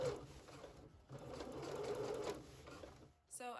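A sewing machine top stitching on trousers runs in a steady mechanical whir, pausing briefly around the one-second mark and stopping near the end, with a short high click at the close.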